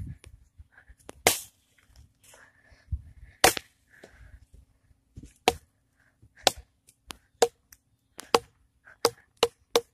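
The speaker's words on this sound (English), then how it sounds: "I'm gonna go bang it against the tree and see if it falls apart." In a video game, a sword is banged repeatedly against a tree, producing sharp, crisp cracking hits at irregular intervals, some in quick clusters, close and clear with quiet gaps between.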